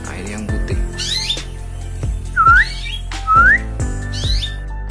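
Caged canaries and lovebirds chirping and whistling up close, with several rising tweets and squeaky calls over a steady low background hum.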